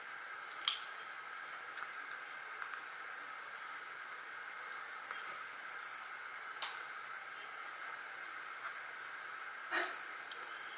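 Scissors snipping through a greeting card during a card-making craft kit session, a few sharp, quiet cuts spaced out over a steady background hiss, with no talking.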